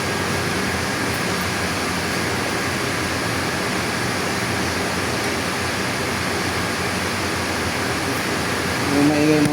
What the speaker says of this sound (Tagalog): Yung maingay mga idol yung tubig yun.